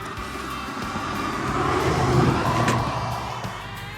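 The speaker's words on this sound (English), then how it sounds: "let the traffic go by" Road traffic rolls past at close range, a broad engine and tire roar that swells to a peak midway and then fades, with no voices.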